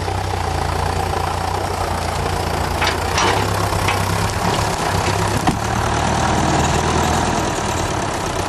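A chainsaw engine runs steadily at a fast idle, a continuous buzzing drone with faint rattles, loud and close, with no voices.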